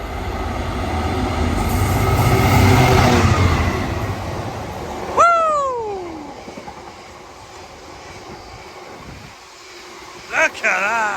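A Class 66 diesel freight locomotive passes close by at speed, with a loud rumbling roar that builds and then fades. Its horn sounds with a clear descending pitch sweep as it goes by, and a second short horn blast follows near the end.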